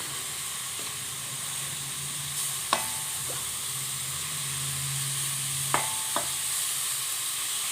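Watery vegetables sauté in a hot pan with a steady, close sizzling hiss, broken by a few sharp clinks of a spatula against the pan and no talking.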